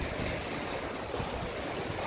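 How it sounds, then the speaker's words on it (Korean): Waves crash and wash against seaside rocks on a stormy, windy day along the coast at Daebon-ri in Gyeongju, a dense continuous roar of surf and wind rumble filling the whole stretch without pause. "바람도 많이 불고 파도도 많이 치고"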